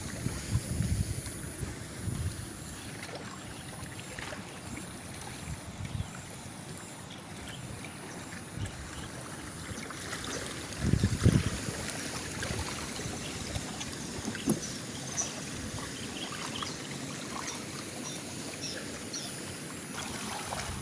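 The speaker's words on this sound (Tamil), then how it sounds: "இப்போ குளத்தில் வந்து அலை அடிச்சு கொண்டிருக்கு" Waves lap steadily against the shore of Muthaiyankattu reservoir, a soft continuous wash mixed with light wind noise on the microphone, a few slightly louder splashes standing out midway, with no talking.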